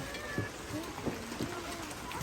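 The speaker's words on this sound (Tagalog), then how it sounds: "Ay, inabot na pa ako ng ulan." Rain falls outdoors in the Philippines as a soft, fairly faint patter with a few heavier drops standing out, and people talk nearby.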